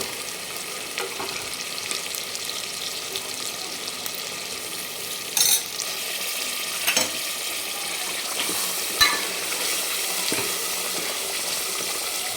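Cooked mutton fries in an oily masala in a pan, giving a steady soft sizzle with a few clinks and scrapes of stirring.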